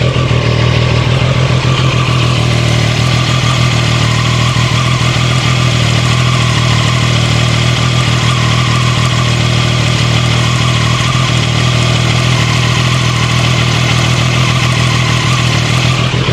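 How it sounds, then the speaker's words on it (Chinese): CFMOTO 675SR motorcycle engine idling cold at a raised 2000 rpm, a loud, steady, even drone with constant pitch and no revving, alone for the whole stretch. "整体这个车还是冷车状态，所以它的怠速的话会去到2000转。"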